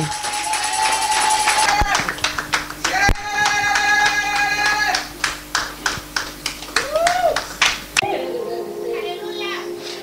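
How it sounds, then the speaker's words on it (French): In a church, people clap in a steady rhythm and cheer to encourage children, with children's voices and singing mixed among the sharp repeated claps throughout. "Nous allons encourager nos enfants avec les acclamations."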